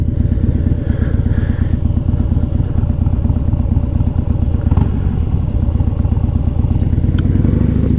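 A 2015 Harley-Davidson Dyna Wide Glide on a ride near a lake and dam, its engine a steady loud low rumble with a continuous pulsing throb and wind noise throughout.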